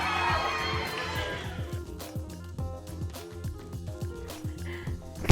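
Children scream and shout at a birthday party where someone appears as the Hulk, a loud, dense crowd din of high yells over rhythmic thumping music, with the voices fading partway through and a sharp knock at the end.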